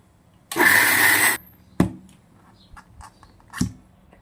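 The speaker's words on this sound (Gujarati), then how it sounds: "એને આપણે દરદરી પીસી લેવાની છે." A mixer grinder jar whirs loudly for about a second while coarsely grinding cooled roasted chana dal, then falls silent, followed by a few sharp knocks and clatters of the jar.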